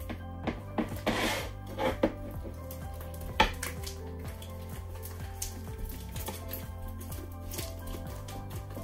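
Slime made with saline solution and baking soda being stirred in a bowl, giving repeated close scraping and tapping knocks in an uneven rhythm, fairly quiet with no talking.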